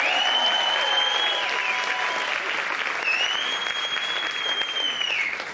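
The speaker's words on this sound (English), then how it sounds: "Give the police officers a big round of applause." A crowd gives police officers a big round of sustained applause, steady clapping throughout with a couple of high whistles cutting through partway.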